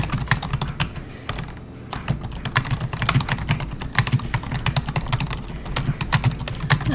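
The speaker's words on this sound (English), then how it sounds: "let's just pretend we're gonna type something" Rapid, uneven typing on a computer keyboard while entering a couple of lines of text into a word processor, with steady close key clicks throughout and no talking.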